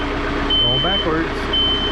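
A tractor reversing at a hot-composting site sounds steady backup beeps over a low engine rumble, with a person talking nearby.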